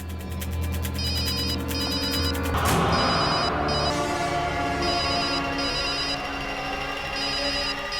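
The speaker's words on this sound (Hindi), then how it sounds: "फोन की आवाज तो यहीं कहीं से आ रही" A telephone rings repeatedly in a steady electronic pattern, fairly close, with a brief burst of clatter partway through and no talking.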